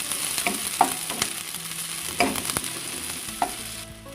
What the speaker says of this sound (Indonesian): Tunggu sampai minyak panas. Masukkan bawang merah dan tumis sampai layu.